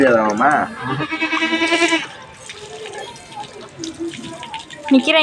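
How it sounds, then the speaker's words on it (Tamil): A lamb bleats in quavering, wavering cries while being bathed with water from a tap, splashing and running water mixed in, with people talking around it. "இன்றைக்கி ஆட்டுக்குட்டியை குளிக்க வைக்கிறோம்"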